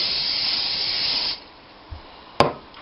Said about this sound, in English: I'm going to spray a little bit of this cooking spray. It's olive oil.